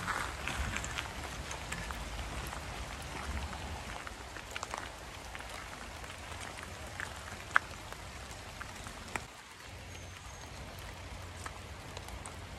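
Rain falling in a walled herb and vegetable garden at the Pendle Heritage Centre, a steady soft patter that continues throughout under light background noise.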